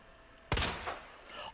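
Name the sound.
pistol shots in video game Resident Evil 2 Remake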